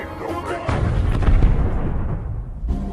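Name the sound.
robot explosion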